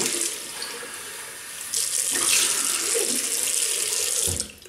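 Tap water runs steadily into a sink while a stainless steel double-edge safety razor is rinsed, a close continuous splashing gush that swells slightly partway through and cuts off at the end.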